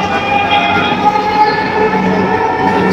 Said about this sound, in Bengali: আর এখানে এসে শুরুতেই আমি মেট্রো রেলে ঢুকলাম।